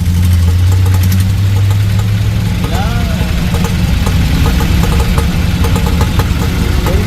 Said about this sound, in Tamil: இது என்ன இன்ஜின்? டீசல்.